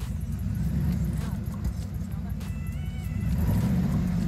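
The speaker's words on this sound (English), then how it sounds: "sent him this video of it revving and trying to die" A faltering pickup truck engine makes a constant low rumble with a slight surge toward the end, as it revs and threatens to stall, while a voice talks over it.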